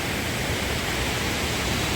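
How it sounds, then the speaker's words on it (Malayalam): Palakuzhy waterfall in Palakkad district, a steady broadband roar of falling water filling the scene from start to finish, close and unbroken, with no voices. "നല്ല രസമുള്ള വെള്ളച്ചാട്ടം"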